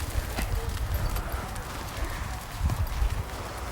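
A horse trots at a riding lesson, its hooves clip-clopping in a steady, muffled rhythm over a low rumble, with a faint voice in the background.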